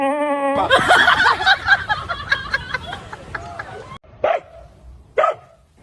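A dog barks and yips near the start, then gives two sharp, separate barks later on, loud and close, with lively voices and babble around it.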